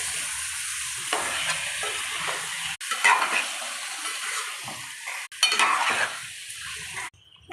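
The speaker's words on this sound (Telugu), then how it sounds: "ఇప్పుడు దీంట్లోకి మనం నీట్గా కడిగి పెట్టుకున్న 1 కేజీ చికెన్ని యాడ్ చేసేయాలి. ఇప్పుడు ఇదంతా కలిసేలా కలుపుకోవాలి." One kilogram of washed chicken being stirred in a hot pan for gongura chicken curry, with a steady loud sizzle, repeated scraping stirs and a few brief pauses, and no talking.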